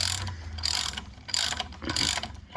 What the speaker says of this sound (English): if you got a 1/4 inch ratchet, probably be the best